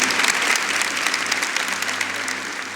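A church congregation claps together in worship, a dense and even burst of applause that runs throughout and eases slightly toward the end.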